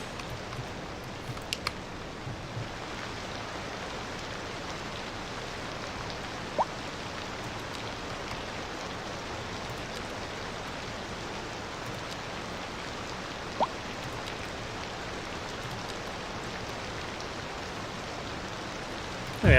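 Steady rainfall in the city-building game Cities Skylines II, a constant soft hiss of drops with a few faint clicks scattered through.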